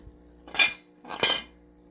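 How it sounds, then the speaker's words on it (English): An old pressure cooker is handled in a basement, giving two close metallic clanks with a pause between them, like lid and pot parts knocking together. No one talks. "Here's a pressure cooker."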